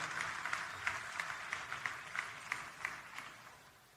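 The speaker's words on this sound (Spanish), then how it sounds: "Let's give a hand of applause to the Lord." A church congregation applauds together during a bilingual Spanish-English service, a steady wash of clapping from many hands with regular sharper peaks, moderately distant and gradually fading toward the end.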